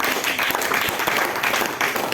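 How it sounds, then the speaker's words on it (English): A church congregation applauds for Jesus in a dense, continuous wash of clapping that fills the room and holds at an even level throughout. "Lift a clap of him to Jesus."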